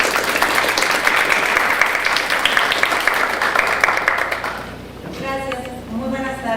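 Audience at a criminal law congress bursts into sustained applause for a speaker, dense clapping that fades after about five seconds as a voice begins speaking.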